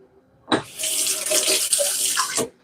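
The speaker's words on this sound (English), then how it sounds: "I'll just add the water." Warm water from a kettle is poured into egg replacer in a kitchen, a steady splashing stream lasting about two seconds, close and loud, with no talk.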